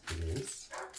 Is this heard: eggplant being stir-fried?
no